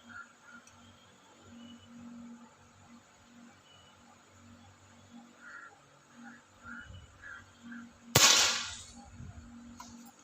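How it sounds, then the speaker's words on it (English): A single sharp crack from an air rifle firing a pellet, close and loud after a stretch of quiet outdoor background with faint chirps. "The first shot."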